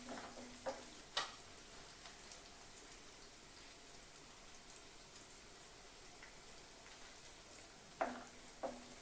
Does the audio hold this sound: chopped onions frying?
yes